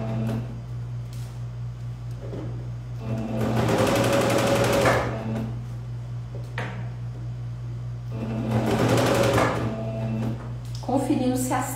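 A sewing machine stitches the seam of a jacquard dress in two loud buzzing bursts of rapid needle strokes over a steady low motor hum, with handling clicks between runs and someone talking alongside.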